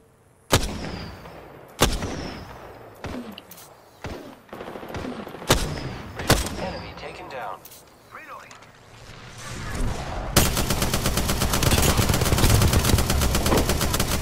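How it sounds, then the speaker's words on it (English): Gunfire in the Apex Legends video game comes as loud, separate shots and blasts, then turns into a dense, continuous roar of rapid fire near the end. "Listen up, I'm getting shot at."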